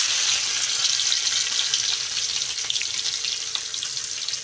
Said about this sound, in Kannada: ನಾನು ಒಂದು ಬಾಣಲಿ ಒಳಗೆ ಎಣ್ಣೆ ಹಾಕಿ ಸಾಸಿವೆ ಶಿಟ ಪಟ ಅನ್ನೋ ತನಕ ನಾವು ಸ್ವಲ್ಪ ಬಿಡ್ಬೇಕು ರೀ